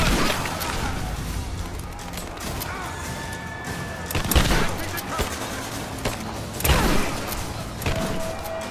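Gunfire exchange in Rise of the Tomb Raider, with scattered shots and two louder impacts near the middle and end over a constant busy battle din, while voices shout in the background.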